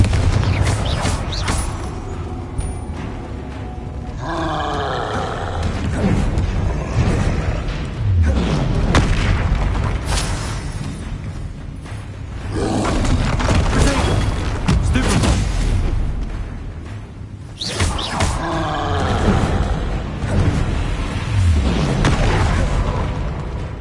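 Confringo spell blasts in a video game combat scene hit as repeated loud, near booms with rumbling tails, separated by brief lulls of battle noise.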